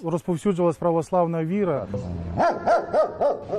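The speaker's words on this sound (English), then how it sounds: "The grounds also feature a world-class canine training facility for bomb-sniffing and attack dogs." Dogs at a canine training facility for bomb-sniffing and attack dogs give a rapid run of sharp, loud barks, then a brief whine, then another rhythmic burst of barking.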